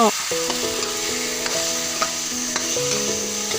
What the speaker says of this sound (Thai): ค่อยๆพัดเพื่อเข้ากันเลยเจ้า แล้วพัดหอมๆเลยเจ้า